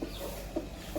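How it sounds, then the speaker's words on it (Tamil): A native country chicken (jathi kozhi) in a small home poultry setup gives a few faint, short clucks over a steady background hiss. "இது பார்த்திங்கன்னா ஜாதி கோழி"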